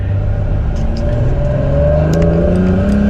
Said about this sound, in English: We're pulling up through the gears, and this thing is strong.